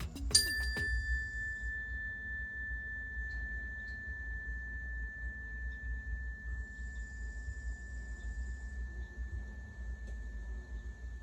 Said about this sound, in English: I'll just give you a quick little ring for reference